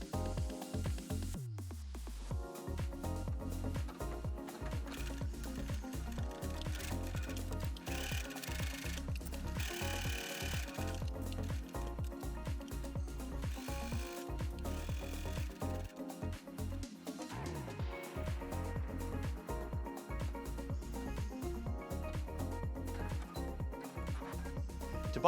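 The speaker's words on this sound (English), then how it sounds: "stitch down the side and bottom with a 1/4 inch seam allowance" A sewing machine runs steadily, stitching the side and bottom seams of a fabric bag with a close, continuous rhythmic whir and needle clatter, nearly unbroken for the whole stretch.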